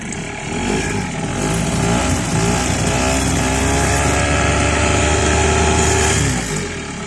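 A Mercury 5 two-stroke outboard boat motor runs steadily close by, a continuous buzzing engine drone that holds an even pitch and level throughout without speech.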